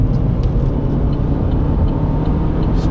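A 2017 Chevrolet Trax LT AWD picks up speed on an open road, heard from inside as a steady low engine and tire drone with a constant wash of road noise and no one talking.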